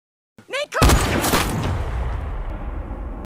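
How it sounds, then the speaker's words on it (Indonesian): A sniper rifle gunshot in a film scene: a sharp, loud crack after a brief vocal sound, followed by a long rumbling decay that fades out over a few seconds. "ia membidik dan melepaskan tembakan hingga mengenai sasaran"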